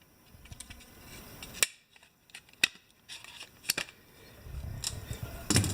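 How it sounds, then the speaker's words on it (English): Paper backing being peeled off a Liftmaster 888LM garage door remote: faint close crinkles and a few sharp ticks and snaps scattered over several seconds, with quiet gaps between them. "I guess we'll pull this paper backing off here"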